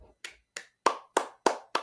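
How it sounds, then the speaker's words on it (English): Seven sharp hand claps, the first three lighter and the last four louder and fuller, spaced about a third of a second apart, with nothing else heard. "I'm gonna do a clapping myself."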